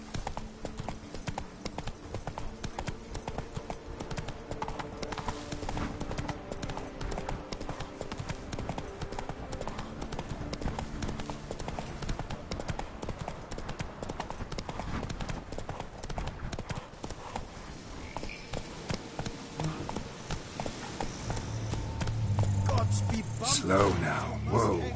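Steady clip-clopping of horse hooves in The Witcher 3, a continuous rhythmic trot under intermittent spoken dialogue, with the pace easing toward the end.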